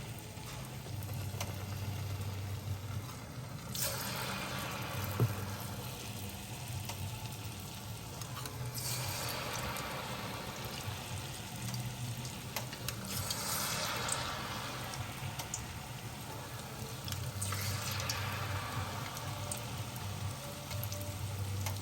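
Fish accras batter spoons frying in hot oil: a steady crackling sizzle that swells in several bursts as each dollop hits the oil, over a low background hum, with no talking.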